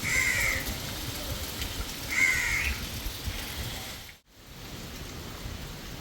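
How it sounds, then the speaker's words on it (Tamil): Steady rain hisses throughout, broad and even, with a couple of crow caws early on and a brief dropout near the end, falling near the flooded Nanthi lagoon by the roadside at Vattappalai, Sri Lanka. "மழை விடுவதாயே இல்லை பாருங்க பெய்து கொண்டே இருக்கு"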